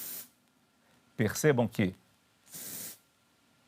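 Two short bursts of a spray bottle firing through a single layer of dish towel held as a mask, each a breathy hiss, with a person talking briefly between them.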